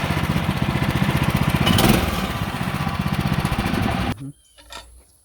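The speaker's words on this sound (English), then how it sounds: "The motor still runs good." A Woodland Mills HM130Max sawmill motor runs close and loud with a steady rapid chugging pulse, then cuts off abruptly near the end, leaving a few faint knocks.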